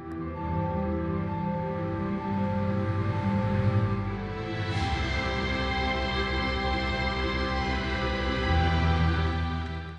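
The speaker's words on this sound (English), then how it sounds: "All the sound you just heard came from these 160 Galaxy Homes." Music played through an array of 160 Samsung Galaxy Home speakers at a product launch event, a full, sustained wash of layered tones and bass at steady volume for the whole stretch, with no voices over it.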